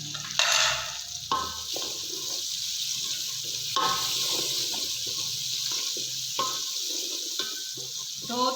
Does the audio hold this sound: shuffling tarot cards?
no